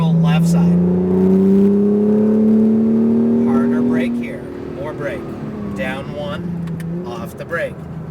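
An Acura NSX accelerating hard at full throttle, its engine note rising steadily and loud for about four seconds before easing off, with instructor speech over the engine throughout.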